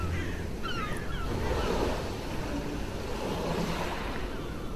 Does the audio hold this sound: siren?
no